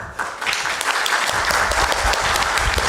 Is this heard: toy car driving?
no